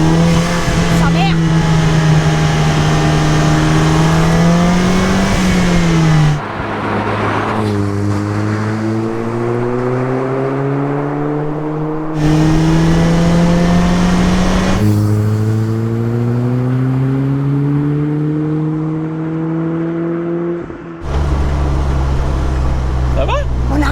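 A road-legal VUHL 05 race car's engine roars loudly from inside, revving up through the gears in repeated rising pulls, with brief drops between shifts.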